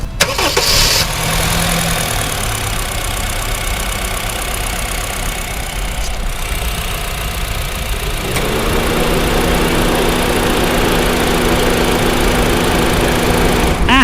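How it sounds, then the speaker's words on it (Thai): A 2013 Honda Freed 1.5 SE engine cranks and runs roughly, then settles into a steady, close idle hum that continues to the end, with no talking. "เดี๋ยวขออนุญาตให้ฟังเสียงเครื่องยนต์สักเล็กน้อยนะครับ"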